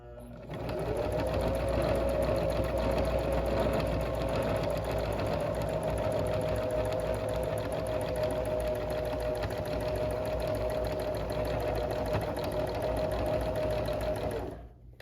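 Sewing machine running steadily for free motion quilting of scallop curves, a close, continuous whirring drone with an even stitching buzz that holds at one speed nearly the whole time.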